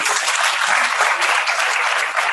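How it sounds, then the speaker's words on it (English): A graduate school orientation audience gives a round of applause, a loud, continuous, tightly packed clapping from many people that runs uninterrupted throughout. "Let's give her a round of applause."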